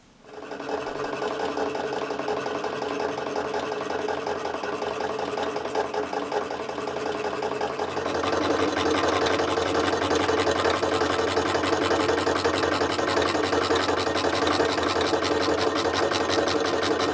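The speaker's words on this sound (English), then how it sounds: "Then I can mark them and cut them out on the scroll saw." A scroll saw cuts small scraps of wood into dice pieces, a steady rapid buzzing chatter that starts abruptly and grows louder and busier partway through as the blade bites, close and continuous.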